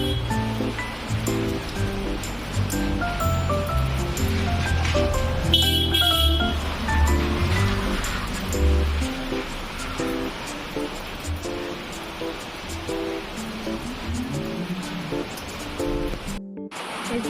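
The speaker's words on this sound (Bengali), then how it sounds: "কারণ আজকে ভীষণ বৃষ্টি" Heavy rain falls steadily outside beside a pond garden, a continuous broadband wash of water that holds at a constant level throughout, with a brief dropout near the end.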